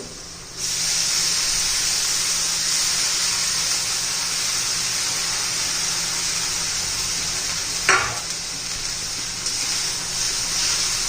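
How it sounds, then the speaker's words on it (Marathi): Fenugreek leaves dropped into a hot pan sizzle with a steady loud hiss, broken by a brief scrape of stirring near the end, cooked as a vegetable dish for Pitru Paksha offerings. "आता मेथी घालून घेऊ"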